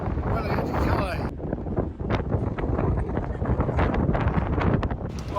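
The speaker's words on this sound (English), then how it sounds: "very windy, so we're in for a rough crossing" Strong wind buffets the microphone on a ferry crossing to Calais in rough weather, a constant loud roaring rush with gusting surges and no pauses.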